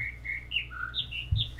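Whistled birdsong from the puzzle game The Witness, a quick sequence of bright tonal chirps stepping up and down in pitch, alone over faint background rumble.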